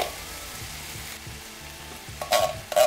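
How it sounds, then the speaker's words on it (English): Smoked paprika, fire-roasted canned tomatoes and refried beans stirred in a pan: a low sizzle with soft scraping stir strokes and a couple of louder clinks near the end. "We're gonna add some smoked paprika to this and just stir it around for about another minute."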